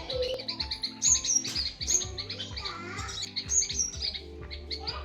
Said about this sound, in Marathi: बुलबुल पक्षी आहे